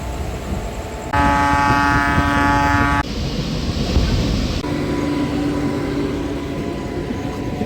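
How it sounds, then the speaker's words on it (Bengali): A Purulia-Howrah MEMU local train runs after departing Purulia Junction, a steady loud onboard rumble with rattling wheels and brief shifting hums and whines from the carriage. "ট্রেন আমাদের ছেড়ে দিল পুরুলিয়া জংশন রেলওয়ে স্টেশন থেকে"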